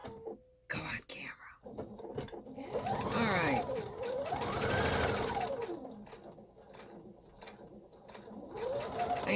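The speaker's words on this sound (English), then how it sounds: "I am sewing on that line that I created with my printout" A sewing machine stitching a fabric coffee pot mat along a printed line, its fast buzzing whir rising and falling in speed over several seconds, close and fairly quiet, while someone talks.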